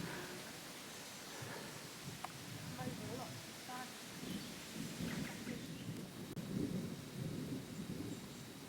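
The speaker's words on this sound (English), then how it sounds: "The thunder behind and this sunlight." A thunderstorm with rain over the Creuse countryside in France: low rumbles of thunder roll under a steady hiss of rainfall, with faint voices now and then.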